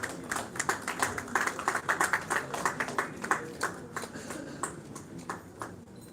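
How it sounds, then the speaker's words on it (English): Audience applause at an award ceremony for a film festival in India, a burst of many hands clapping that swells and then thins out over several seconds, fairly close and loud. "Please give her a big round of applause."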